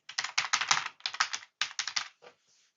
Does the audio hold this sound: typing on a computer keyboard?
yes